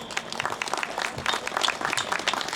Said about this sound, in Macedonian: ние сакаме да ги поздравиме со еден аплауз